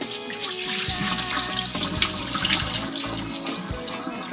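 Water pours steadily into a Platinum cookware pot over corn on the cob, a continuous splashing, filling sound heard close up with no talking.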